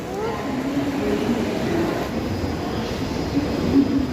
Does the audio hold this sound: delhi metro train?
yes